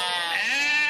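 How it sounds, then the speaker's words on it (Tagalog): A goat gives a single loud, wavering bleat, close by and alone. "Mga kambing."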